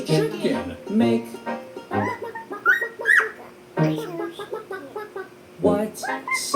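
A voice imitates a chicken, giving a run of bursty clucking and squawking calls in several loud groups, close and clear, with pauses between them.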